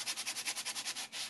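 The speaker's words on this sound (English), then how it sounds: "you can go over the entire surface using a sanding block" A medium grit sanding block rubs back and forth across a mixed-media art journal page covered in patterned papers, about a dozen rhythmic, even scratchy strokes close up.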